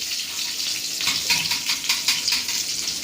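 Curry leaves and chillies crackle and sizzle in hot oil while being stirred, a steady hiss with faint clinks from the spoon, close and moderately loud.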